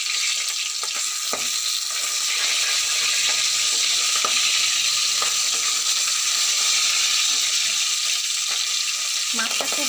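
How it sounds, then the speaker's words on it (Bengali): Rohu fish pieces fry in a pan with a dense, steady sizzle and crackle that holds loud and even throughout, with occasional small pops and stirring sounds close by. "মাছগুলো একটু লাল লাল করে ভেজে নেব।"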